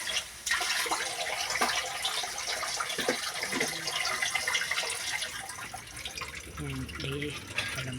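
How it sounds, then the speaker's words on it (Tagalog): Water poured into a cooking pot to soften and simmer vegetables such as squash into a broth, a steady rushing splash running through most of the span, fairly close, with a faint voice briefly near the end. "lagyan ko ng tubig para lumambot yan."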